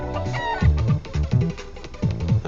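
Chickens cluck in a retro RPG Maker VX Ace casino mini-game, repeated short game-sound clucks in bursts over light background music, no talking.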